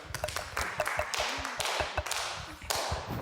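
Scattered crew members clap on a film set, the claps quick and irregular at close range with a few heavier thuds among them, and no talking over them.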